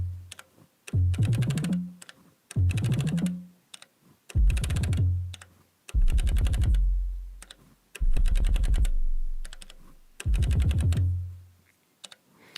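Elektron Digitakt track played chromatically from the trigger keys: six separate notes, each a short, punchy synthetic hit with a decaying tail, spaced evenly and heard alone.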